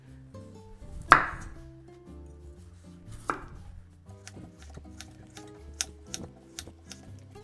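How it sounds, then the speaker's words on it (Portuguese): A knife chops carrot into thin julienne strips for Korean kimchi, giving a string of crisp, close board taps, first sparse, then quicker and more regular, over a soft tonal background. "começar pela cenoura. A gente vai fazer tiras finas, que a gente chama de julienne"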